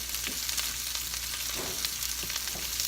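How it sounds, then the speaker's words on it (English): Sliced vegetables in crescent-moon shapes sizzle steadily in a hot pan for pork piccata, with soft scrapes and stirring knocks surfacing every half second or so over the constant frying hiss. "We're gonna stir all that in there."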